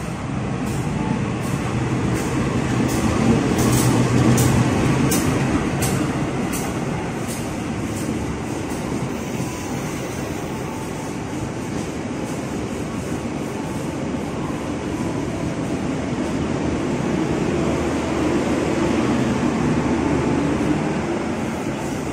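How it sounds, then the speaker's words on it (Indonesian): Loud, steady rumble of the Serayu long-distance passenger train arriving at Bekasi station, Indonesia, with rhythmic clicking of wheels over rail joints, continuous and close throughout. "kereta api Serayu yang bakal masuk di jalur 5"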